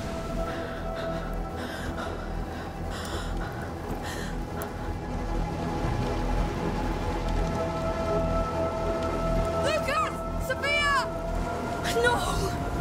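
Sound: rain storm in A Plague Tale Requiem video game

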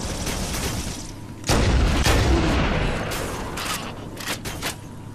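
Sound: assault rifle gunfire in the video game Halo

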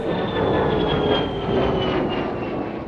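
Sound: F-35 fighter jet flying

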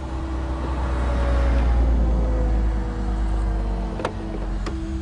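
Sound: car passing on road

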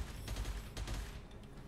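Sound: gunfire in the video game Gunfire Reborn

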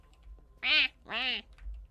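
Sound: duck quacking

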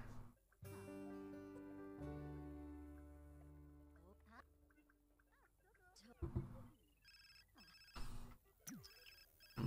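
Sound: phone ringing in The Sims 4 video game

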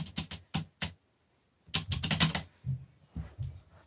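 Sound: typing on a gaming keyboard

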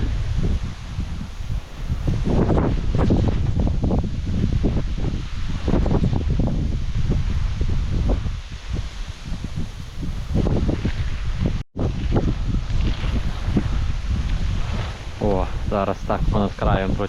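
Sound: wind

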